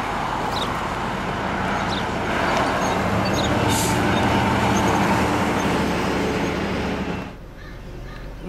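A freight train rumbles steadily past on the prairie at Lanigan, Saskatchewan, a broad continuous roar with faint crow caws above it, dropping away suddenly near the end.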